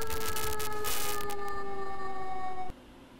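A long harbour siren wails loud and steady in the Shenmue video game, its stacked tones gliding slightly downward with faint noise above, then cutting off abruptly near the end.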